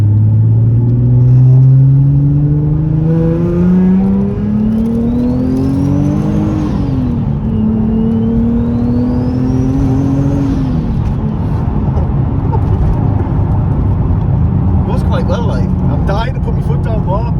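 A Nissan 370Z with a rear-mounted turbo engine revs up in two rising pulls that fall back, loud and close, then settles to a steady running rumble while people talk.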